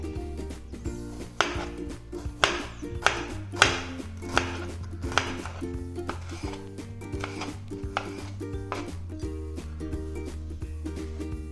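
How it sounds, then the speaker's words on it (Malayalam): A knife chops ingredients for tempering a roasted-gram chutney, striking a cutting board in a slow, uneven series of sharp, close taps over a steady background musical drone. "ആ നേരത്ത് നമുക്കിതിന് കടു വറക്കാനുള്ള സാധനങ്ങളൊന്ന് അരിഞ്ഞു വയ്ക്കാം."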